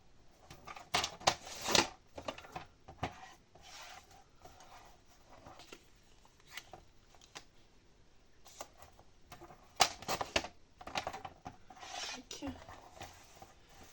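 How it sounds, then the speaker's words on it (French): Hand saw cutting through a piece of material, irregular bursts of rasping strokes in two clusters separated by quieter scraping and handling, close and fairly faint. "Sortir ma scie pour le couper."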